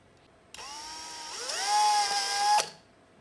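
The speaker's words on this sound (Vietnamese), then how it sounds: "mình khoan lỗ đây, khoan lỗ cái này vô nè." A small power drill bores a hole during work on a rechargeable LED lamp, spinning up with a whine, bearing down and pitching lower, then stopping after about two seconds, close and clear.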